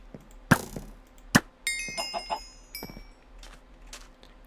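A chicken in the video game Minecraft gives a few short clucks, interspersed with sharp game clicks and a brief chime, fairly faint overall.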